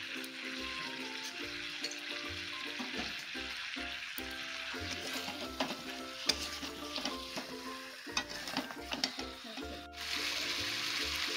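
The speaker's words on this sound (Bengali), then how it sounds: "এবারে এই পেঁয়াজ কালিগুলো গাছে ছড়িয়ে দিয়ে একটু কষে নেব।" Sliced onion frying and being stirred in a home kitchen pan, a soft sizzle under repeated clinks and scrapes of utensils, with a hum in the background and a louder hiss near the end.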